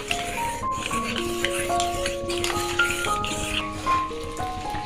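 Vegetable curry with mixed winter vegetables being stirred in a pot, continuous scraping and gentle sizzling with a faint background hum and occasional louder rubs of the spoon.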